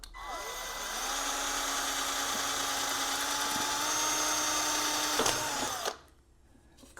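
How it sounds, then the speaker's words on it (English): A WORKPRO cordless drill driver bores a hole, running at a steady high whine for about six seconds with a slight pitch dip as the bit bites, then stopping abruptly into quiet. "So let's start drilling, see if we can make a hole."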